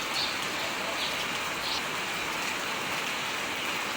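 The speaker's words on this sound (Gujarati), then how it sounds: "ચોટીલાના સુખસર ગામમાં આજે ભારે વરસાદ આવ્યો છે" Heavy monsoon rain pours down over a village near Chotila in Gujarat, a dense steady hiss of drops hitting surfaces close by, with faint birdsong in the background and no voices.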